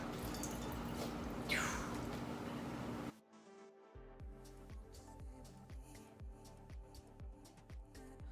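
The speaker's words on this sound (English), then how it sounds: "I'm gonna add some water to this." Water splashes into a green morning drink: a brief pour, then a quieter run of small, regular drips and squishy liquid sounds close by.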